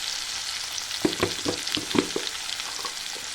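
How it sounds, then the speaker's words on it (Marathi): Tomatoes frying in a pan with red chili powder and turmeric, a steady soft sizzle with a few brief louder crackles and stirring taps, alone without talk. "तर आपण चांगल्यापैकी टमाटर फ्राय दिलं जातं"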